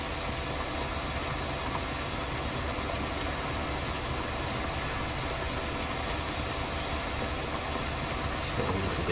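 A John Deere 8R tractor from 2011 in Farming Simulator 19 pulls a plough, its engine a steady, loud diesel drone that holds an even pitch throughout with no talk over it.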